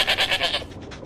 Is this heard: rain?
no